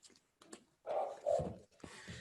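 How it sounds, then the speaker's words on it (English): A dog barks and whimpers faintly in the background, giving a few short yelps and a couple of longer whines, with no one talking. "Is that a dog in the background?"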